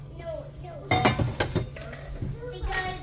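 Carrots, beets and onions dumped into a pot with oil for red borscht, giving a loud clattering burst of vegetables and metal clinks, with someone talking before and after.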